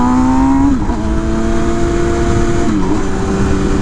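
A motorcycle with a loud Rush custom exhaust drones steadily close by, pitch stepping down as it shifts gears, with a rough, throaty exhaust tone throughout.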